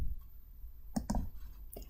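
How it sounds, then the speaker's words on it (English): A computer mouse clicks on an article title in a quiet room, a close, sharp double click followed by one more faint click over a low hum. "Clicking on the title takes you to a detail record"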